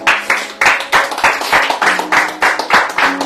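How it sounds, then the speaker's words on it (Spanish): A church congregation claps loudly and rhythmically in praise during a Spanish-language service, a steady run of close, evenly spaced claps with no talk over them. "Dale un fuerte aplauso al Señor."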